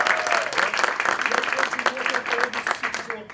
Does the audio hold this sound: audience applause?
yes